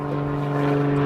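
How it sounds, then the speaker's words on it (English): An airplane drones steadily overhead near an airport, a loud continuous low hum with a stable tone and no talking. "Damn airplanes. I live by an airport."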